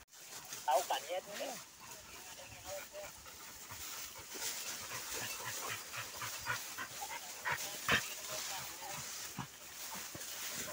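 Hunting dogs pant and whimper during a wild boar hunt on Mount Pangajar near Cineam, Tasikmalaya, giving short breathy huffs and faint whines at close range over rustling ground, with voices at times.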